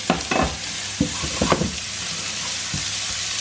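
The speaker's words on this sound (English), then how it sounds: "So we'll add the shallots to the pan." Sliced long shallots hit a hot pan and sizzle loudly, with scraping and stirring bursts over a constant frying hiss, and no voices.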